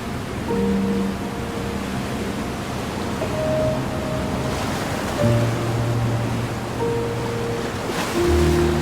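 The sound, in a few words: roar of the Amazon River tidal bore wave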